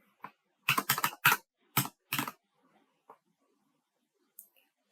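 A few brisk keystrokes on a computer keyboard in a quiet room, a short cluster of clicks followed by scattered single taps.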